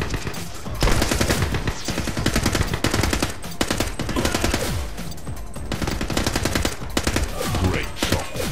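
Rapid, sustained gunfire in the shooter game The Club during an assault on Alcatraz, loud dense bursts of automatic fire mixed with single shotgun-like blasts, nearly continuous throughout with no talking.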